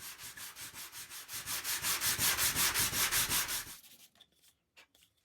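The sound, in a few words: sanding burnt steel parts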